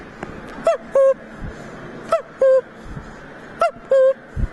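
A person imitates a cuckoo call with a falsetto voice, giving three clear two-note 'cuck-oo' phrases evenly spaced, close and loud, with faint background noise between them.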